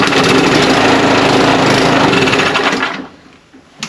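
A Toro snow blower engine runs loud and steady in brutal cold right after a pull start, with a dense buzzing drone. It cuts off sharply near the end and leaves quiet clicks.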